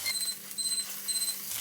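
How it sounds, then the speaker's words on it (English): A kitchen timer beeps for roasting fennel, three evenly spaced bursts of a high electronic pip over a steady background hum, fairly loud and with no talking. "That's the timer for my roasted fennel"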